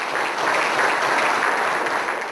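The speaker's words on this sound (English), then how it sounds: "Please give them a big round of applause, ladies and gentlemen." An audience at the EPC World Awards evening gives a big round of applause, a loud, continuous, dense roar of many hands clapping that holds steady throughout.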